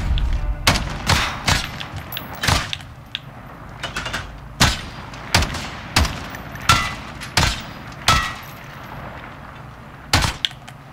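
Shotgun blasts in the Modern Warfare video game, a series of about fifteen loud, sharp booms at irregular intervals of roughly half a second to a second, each with a short decaying tail, close and without speech.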